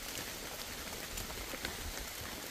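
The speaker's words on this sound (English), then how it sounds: "Yeah, it's starting to rain again." Rain falling on big green leaves along the Appalachian Trail, a faint, steady patter of many drops spread evenly, with no voices.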